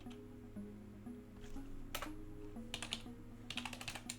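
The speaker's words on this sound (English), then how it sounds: "I'm typing the yolk, just in case somehow that ends up being the thing." Keys clatter on a computer keyboard while entering words in the puzzle game Lingo, short bursts of quick taps that grow denser toward the end, over a soft steady game hum.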